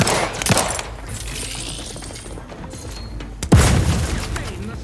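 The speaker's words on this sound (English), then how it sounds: "Hand bomb delivery!" A hand bomb grenade from The Outer Worlds 2 bursts close by with a sharp, loud blast, following an earlier thump and a lingering rumbling tail, amid game noise.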